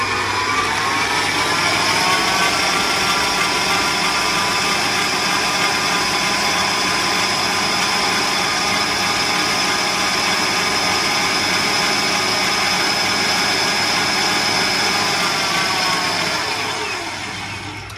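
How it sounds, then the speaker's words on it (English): Electric stand mixer running at full whisk speed in a cookery school kitchen, a loud, steady motor whine and whirring rattle sustained throughout before easing off at the very end. "So right back up to full whisk again."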